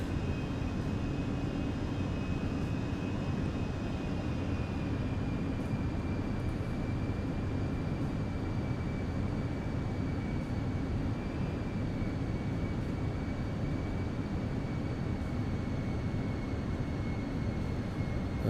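Steady aircraft engine drone from a flight simulator game, a continuous even roar with a faint high tone held throughout, no talk.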